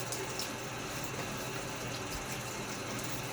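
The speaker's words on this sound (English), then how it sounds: "So I'm going to throw a little water on my face." Tepid soft water from a running tap is splashed onto a face before a wet shave at a sink, a faint continuous trickle with light splashes and no talking.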